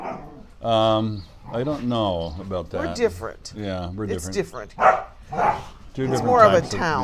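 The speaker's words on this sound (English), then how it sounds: "Apologize for the dogs." Dogs bark and yip in quick bursts under and between two people talking, close and fairly loud.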